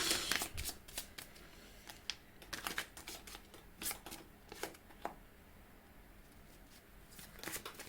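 Tarot cards are shuffled by hand during a reading, giving a steady run of crisp riffling and slapping bursts for about eight seconds at close range with no talking.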